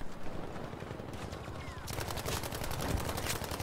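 Rapid automatic gunfire in the video game Battlefield V, a dense rattling burst that grows louder and more sustained midway through, with faint voice chat underneath.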